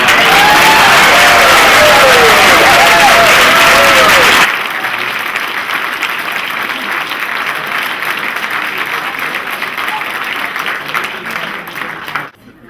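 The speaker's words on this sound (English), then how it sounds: "Now, how about a round of applause?" A reunion audience breaks into loud, dense applause with some cheering and voices, then the sound abruptly thins into a quieter, steadier clapping that continues for several seconds before tapering off.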